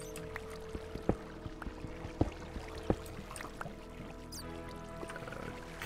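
Water placed in the Minecraft video game makes a soft pouring, gurgling flow with scattered sharp clicks and taps over it, fairly quiet and heard alone without talk.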